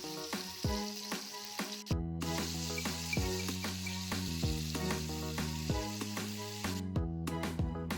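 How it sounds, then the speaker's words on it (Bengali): Potatoes fry with turmeric and salt in mustard oil in a kadai, giving a close, steady sizzle broken by repeated scraping stirs and a few brief pauses, with no voice. "প্রথমে কড়াইয়ে সরষের তেল দিয়ে আলুগুলো হলুদ আর নুন দিয়ে ভেজে নিচ্ছি।"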